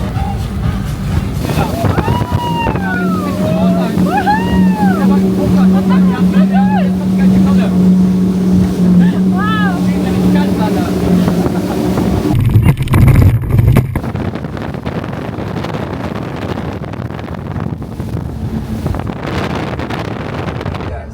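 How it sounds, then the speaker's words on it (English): A Brabus Shadow 900 motorboat runs on open water at a show in Dubai, its steady engine drone mixed with wind buffeting the microphone, while people talk over it and the roar surges briefly near the end. "Brabus also brought their Shadow 900 just to spin some rounds and take some people."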